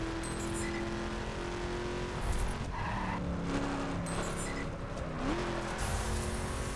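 Cars race in the video game The Crew with a continuous engine roar, and tires squeal and skid in several sliding bursts, one with a rising pitch sweep near the middle.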